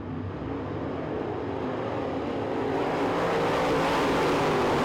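Race cars on a dirt track at a Winter Nationals night race, a continuous rumbling roar of engines from a distance that builds slightly louder over the few seconds.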